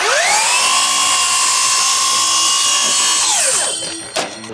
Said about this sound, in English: It looks like my miter saw might just cut it.